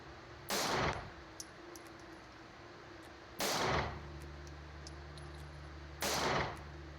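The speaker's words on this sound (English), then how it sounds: "I'm gonna leave you with some raw footage of Mo shooting one-handed" Three loud gunshots from a pistol fired one-handed at a shooting range, spaced about three seconds apart, each a sharp blast with a brief ringing tail and a low hum between shots.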